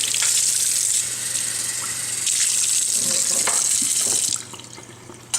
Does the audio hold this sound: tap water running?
yes